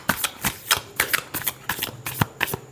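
A deck of tarot cards gets a final quick shuffle, its papery slaps and riffles coming in a fast, rhythmic series of close, distinct strokes.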